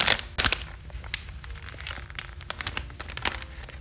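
A package of disposable dust collector filters is cut and torn open, giving a run of close, faint crinkling and crunching packaging noises with irregular sharp rustles.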